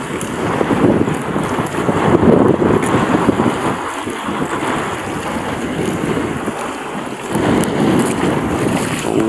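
Strong wind at sea roars and buffets around a bangka boat on choppy water, a continuous rushing blast with gusts swelling and easing, mixed with wave wash and no voices.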